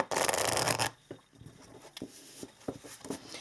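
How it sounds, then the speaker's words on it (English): Tarot cards being shuffled by hand, a brief dense riffle of flicking cards followed by softer scattered taps and rubs, quiet and close. "So let us just shuffle a little bit."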